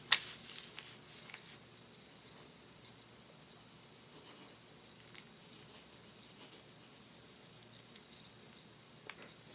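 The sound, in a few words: fountain pen writing a sample on paper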